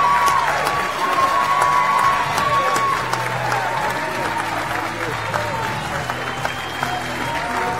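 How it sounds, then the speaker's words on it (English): Sustained applause and cheering from a seated crowd at an education awards presentation for a teacher of the year winner, steady clapping throughout with a presenter's amplified voice over it. "A big cheer for Daniel"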